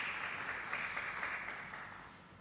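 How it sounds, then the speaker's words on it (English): A round of applause from the audience at a university entrepreneurship intervarsity competition, steady clapping throughout that fades slightly toward the end. "Can we give a round of applause?"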